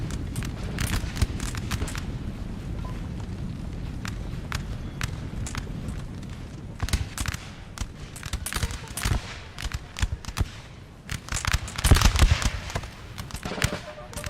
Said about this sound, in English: there's the volleys from the square